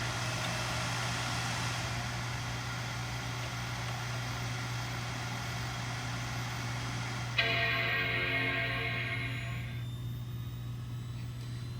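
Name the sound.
2010 Mac Pro startup chime and fans spinning up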